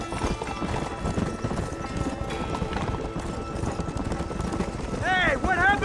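Galloping horses in the video game Red Dead Redemption, a steady hoofbeat clatter running under loud game music and voices, with a horse whinny near the end.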